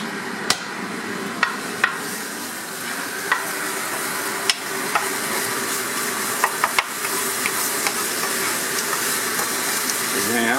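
Green onions sizzle and hiss in a pan over medium heat, a steady close frying sound broken by sharp clicks and taps of stirring utensils.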